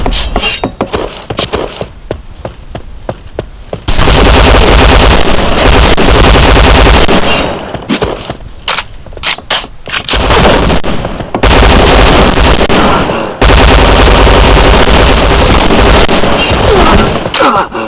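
Rapid P90 submachine gun bursts in the shooter game Point Blank, loud dense automatic fire in several long stretches with short pauses between, occasional crash-like impacts mixed in.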